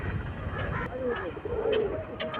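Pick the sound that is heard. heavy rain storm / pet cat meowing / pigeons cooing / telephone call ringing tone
pigeons cooing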